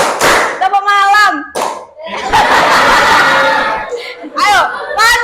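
Children play a clapping chant game in a classroom, their voices chanting loudly in unison, with a burst of dense clapping and crowd noise in the middle between the sung lines.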